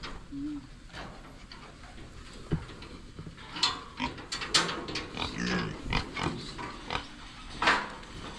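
A pig walks and grunts on a farm, giving soft, scattered low grunts and shuffling noises at moderate distance while people talk quietly nearby.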